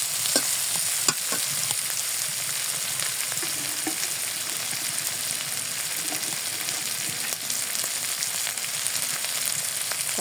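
Onions with red and green chillies fry in a pan, giving a steady close sizzle with occasional stirring scrapes and small pops, and no one talking.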